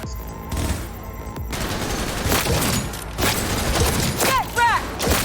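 Rapid gunfire from a Cyberpunk 2077 firefight on hard difficulty, with dense bursts of shots, clattering mechanisms and ricochet-like whines building through the scene, loud and close with brief voices mixed in.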